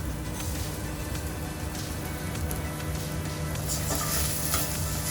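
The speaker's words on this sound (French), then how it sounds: "Une fois que votre huile elle est chaude, vous allez venir y verser le reste des oignons." Onions and rice sizzling and crackling in hot oil in a pan, a steady dense hiss with soft stirring scrapes, close and constant throughout.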